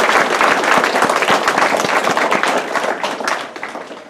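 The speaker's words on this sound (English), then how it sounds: "give yourselves a round of applause" A banquet crowd at the Champlain Fire Department gives itself a loud, dense round of applause, with many hands clapping close together throughout and fading slightly near the end.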